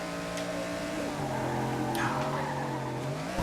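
A racing car in Ridge Racer Unbounded roars along with a steady engine drone and a sharp tire squeal as it skids, loud and close throughout.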